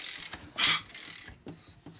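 A wrench turns over a rebuilt 1979 Harley-Davidson shovelhead 80ci engine, making ratcheting clicks and mechanical whirring in short bursts, close and fairly loud, with no voices.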